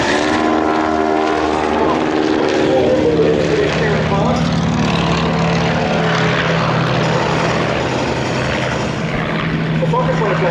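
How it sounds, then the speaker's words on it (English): A BE-2 biplane and a Fokker triplane fly a low-level dogfight at an air festival, with a steady droning roar of propeller engines that swells and shifts in pitch, under a commentator's voice. "BE-2 now up above with a Fokker on its tail coming in for a low-level dogfight"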